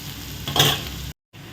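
Onions stir-fried in a pan for a potato masala to serve with puri, a close, steady sizzle with a brief louder scrape of stirring, then a short silence before the frying resumes alone.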